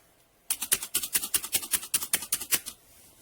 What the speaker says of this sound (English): here's the tang sound, which you can hear a lot with the space bar